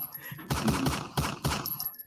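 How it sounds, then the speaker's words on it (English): Several loud, punchy gunshot effects boom in a quick irregular series, each with a broad crack and short decay over a low rumble. "just come for the air horns, stay for the gunshots."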